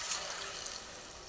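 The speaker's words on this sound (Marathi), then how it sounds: "आपण ह्याच्यामध्ये टाकणार आहोत 1 ग्लास गरम करून घेतलेलं पाणी" A glass of warmed water poured into eggplant pieces already fried in oil for a village-style curry, giving a brief steady wash of splashing and hissing liquid at moderate level, with no talking.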